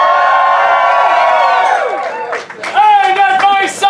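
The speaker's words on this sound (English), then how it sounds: "which means you should cheer now!" An outdoor crowd at a Renaissance faire's final revelries breaks into cheering and whoops after a costumed performer, playing William Shakespeare, finishes a loud drawn-out call; shouts and claps rise in bursts near the end.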